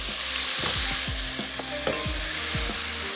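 A spoon scrapes and stirs a freshly added paste into thick simmering gravy in a pot, with close, repeated strokes roughly every half second over a soft, steady bubbling hiss.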